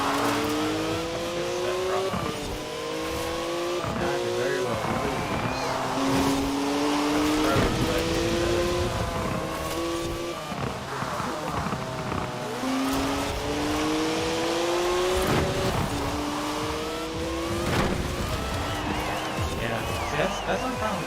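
S2-class race cars in Forza Horizon 4 rev hard and accelerate over and over, their engine notes climbing in repeated rising sweeps. The sound stays loud and steady throughout, with a voice talking over it.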